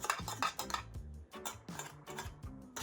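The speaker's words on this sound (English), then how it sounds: "I'm going to use this muffin tin" A metal muffin tin is handled in a home kitchen while banana bread batter is readied, giving a string of close, bright clanks and rattles in uneven bursts with short pauses between, no talking.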